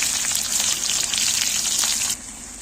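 Onions and cumin sizzle steadily in a hot pan, a bright continuous frying hiss close by that drops noticeably quieter near the end, with no talking.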